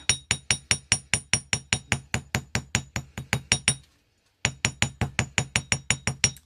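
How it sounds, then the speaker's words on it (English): The rounded ball end of a hammer taps wire for a rustic wire heart pendant. Quick, evenly spaced metallic taps ring out close and bright, stop briefly, then resume at the same pace. "the ball section, and what I would then do is tap"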